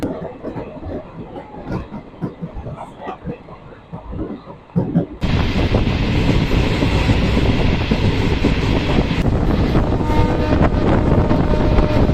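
The Hazarduari Express rumbles along loudly near Plassey with steady clattering and roaring wind noise, following a quieter stretch of indistinct background chatter in a crowded carriage.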